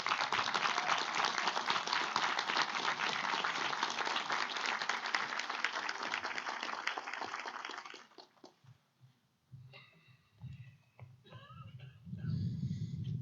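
Sustained audience applause at a university commencement for an Olympic swimming coach, a dense wash of many hands clapping for about eight seconds before dying away into quiet room noise and a voice.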